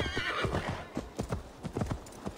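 Horse hooves clip-clopping at a steady trot in Assassin's Creed Valhalla, riding through a Gloucestershire forest, with a whinny mixed in; close and clear with no talk over it.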